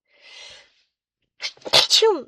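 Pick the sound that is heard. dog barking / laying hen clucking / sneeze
sneeze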